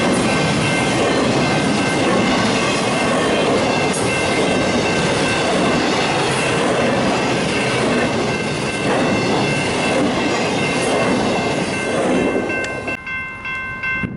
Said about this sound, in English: The second of the two trains was another northbound, an empty hopper train.